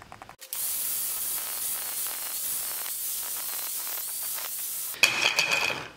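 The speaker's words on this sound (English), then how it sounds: "I'm gonna be using an angle grinder. I'm not cutting all the way through these. I'm just cutting a groove on each mark" An angle grinder cuts shallow grooves into metal stock for bending into ditch light brackets, a steady high-pitched whine with gritty hiss, close and loud for about four and a half seconds before a harsher burst near the end.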